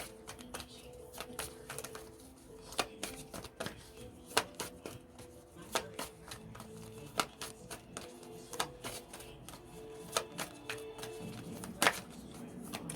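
Oracle cards being shuffled by hand in a steady run of quick papery riffles and soft slaps, close and fairly quiet, with no talking.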